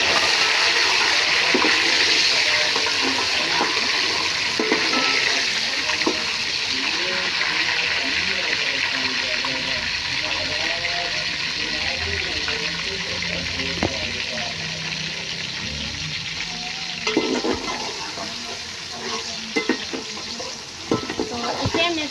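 Chopped tomatoes frying in a pan while making kofta pulao, a steady continuous sizzle with occasional stirring scrapes and clinks over the full length, with a voice talking now and then.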